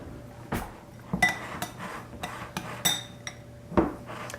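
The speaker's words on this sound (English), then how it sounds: "I'll probably just dig out a spoon here now" A spoon dug out from among kitchen utensils, a string of close metallic clinks and rattles at irregular intervals over a quiet background.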